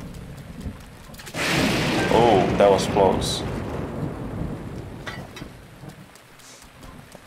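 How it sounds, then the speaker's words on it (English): Thunder cracks and rumbles over steady rain in a stormy scene from Zelda: Breath of the Wild, with a loud burst that rolls off into a long tail as someone briefly speaks. "And there's thunder and stuff in the rain."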